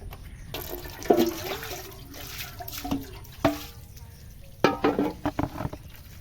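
Susuni sak, a leafy green, rinsed by hand in a basin of water, with close splashing, sloshing and dripping in irregular bursts as the leaves are swished and drained.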